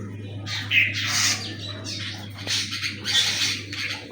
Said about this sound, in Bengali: বুলবুলি